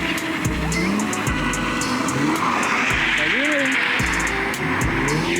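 A car drifts at a drift school, with loud tyre squeal and engine revving nearby, rising and falling in repeated bursts while people talk over it.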